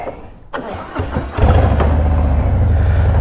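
A Harley-Davidson motorcycle engine cranks and fires up, catching into a loud, steady low rumble that settles into an idle and fills the rest of the moment.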